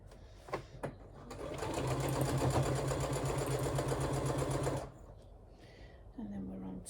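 A sewing machine backstitches along a project bag, a steady, close whirring run of rapid stitches lasting a few seconds, framed by faint handling clicks before and after.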